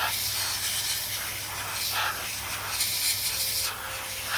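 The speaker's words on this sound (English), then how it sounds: "Just dry it off with some air." Airbrush blowing a steady stream of compressed air over a freshly weathered model locomotive, a continuous close hiss with slight fluctuations throughout.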